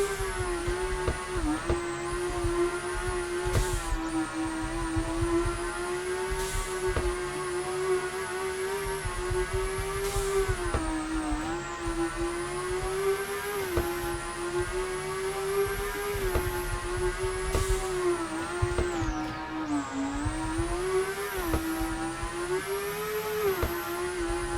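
Car engine droning steadily through a lap in the game Car Dealer, with gentle pitch rises and dips as the car speeds up and slows, constant and close with a high whine above and no talk.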